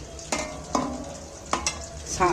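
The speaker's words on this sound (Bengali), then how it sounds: "দেখছো যে একটা চোয়াচোয়ানি আওয়াজ সেটা কমে গেছে" Pakoras frying in hot oil give a close, steady sizzle, broken by several sharp scrapes and clinks of a spatula stirring against the pan.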